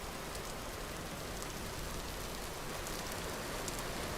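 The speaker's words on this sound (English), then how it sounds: "sounds of rain." Steady rain falls in the Vintage Story video game, a continuous dense hiss of drops on surfaces, even and unbroken throughout with no talking.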